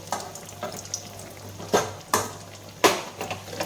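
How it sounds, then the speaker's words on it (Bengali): Rice flour dry-roasting in a pan over lowered heat, with faint sizzle under repeated scraping and clinking strokes of a utensil against the pan, a few louder knocks standing out. "আর একটু চালের গুঁড়ো নেবো ওইখানে নিয়ে এই এইটুকু আবার ভেজে নেবো"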